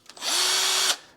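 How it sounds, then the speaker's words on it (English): A cordless drill set to a low torque setting, used for polishing bright trim on a W126 Mercedes, spools up from a brief start into a steady high whine for just under a second, then stops. "It does seem to govern how quickly the drill spools up"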